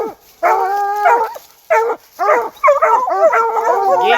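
A bluetick coonhound bays and barks on a raccoon hunt, close and loud, in short bursts of drawn-out yelping howls broken by brief pauses, with no voices.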